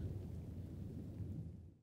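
Thunder from a storm over southeast Germany rolls as a low, continuous rumble, fairly quiet and steady, fading out at the end.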